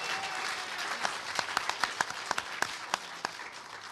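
Scattered audience clapping at a 2004 hacker conference: a soft bed of applause with a dozen or so distinct, separate claps popping out unevenly, fairly close and moderately loud, no talking over it.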